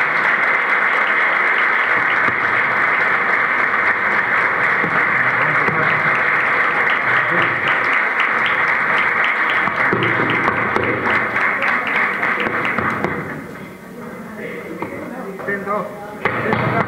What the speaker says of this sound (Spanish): Les brindamos un fuerte aplauso también para los auxiliares.